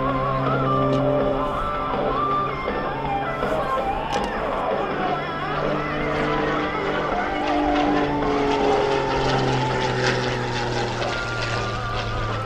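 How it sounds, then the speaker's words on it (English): Extra 330SC aerobatic airplane performing high-performance flips at the 2017 Wings Over Houston air show, a loud continuous propeller engine drone that rises and falls throughout, heard under steady announcer commentary over a public address system. "that's high performance flying that allows him to flip that airplane"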